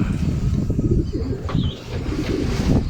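Nearby pigeons coo in low, throaty bursts over light background noise, with a faint chirp partway through; no speech.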